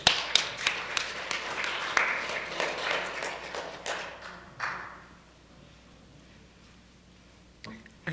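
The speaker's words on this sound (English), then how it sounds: "if you guys want to give a round of applause to our administrator, Laura CHIPCAST" Applause at a town hall meeting for an administrator, a brisk round of individual hand claps from a modest audience that thins out and stops after about four seconds, leaving a quiet room with a faint murmur and one late clap.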